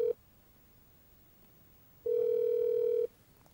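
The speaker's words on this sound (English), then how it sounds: "the OpenStage phone will dial out by default through the speaker" An OpenStage SIP phone plays its dial tone through the speaker. A short burst of the steady tone is followed by a quiet gap, then a clear one-second tone that stops abruptly.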